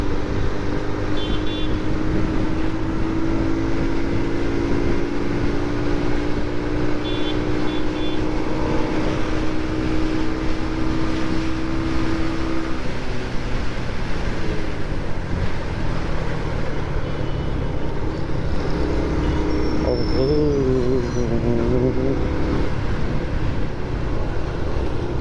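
A motorcycle ride on a cold day filmed on a GoPro Hero 9, a continuous loud engine and wind rumble throughout, with a brief faint voice near the end.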